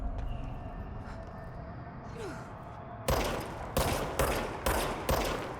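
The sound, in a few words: gunfire from player's gun in video game Control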